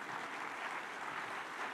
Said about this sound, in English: Another round of applause for His Excellency, please.